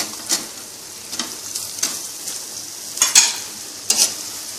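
Aloo muthiya (potato dumplings) frying in a pan, a quiet sizzle broken by a handful of brisk stirring scrapes spaced about a second apart, close, with no talking.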